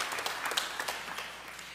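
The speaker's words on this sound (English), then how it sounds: "Give yourselves a round of applause for growing our church." Church congregation on Pentecost Sunday giving a round of applause, a brief crowd of clapping hands heard at a distance with a few sharper claps standing out.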